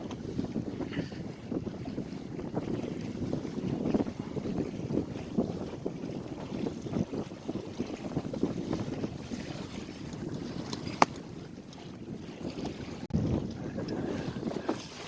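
A sailboat moves through light, lulling wind, with a steady wash of water along the hull and rustling wind noise on the microphone; a sharp click stands out briefly near the end.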